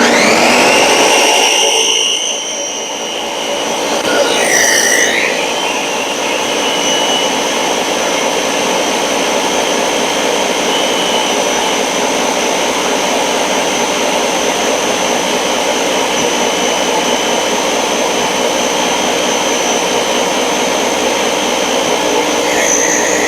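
A blender chopping salsa vegetables, starting on medium then switching to high, makes a loud, steady motor whine with a brief dip and a pitch change early on before settling into a continuous high-speed roar.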